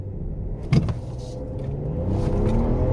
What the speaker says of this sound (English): let's hear this blow-off valve